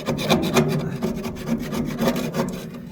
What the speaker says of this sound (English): You want to scrape it all up.